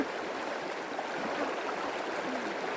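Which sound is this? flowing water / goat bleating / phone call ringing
flowing water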